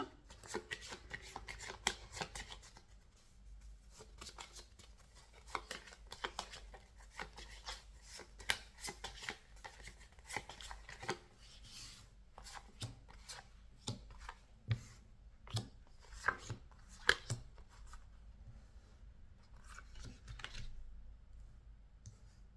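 A deck of oracle cards is shuffled by hand for over twenty seconds, a quiet, close, irregular run of soft riffling clicks and rubs with brief pauses between bursts and no talking.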